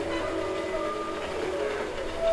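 Train whistle giving a steady, sustained tonal blast with layered pitches, heard at moderate distance over a constant rumble of rail noise for the whole stretch.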